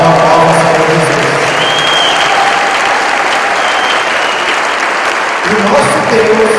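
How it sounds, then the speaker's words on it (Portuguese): Loud, dense applause from a large church congregation at a Sunday service fills the space, with a faint tone and crowd noise underneath before it tapers near the end. "Então, palmas para Jesus."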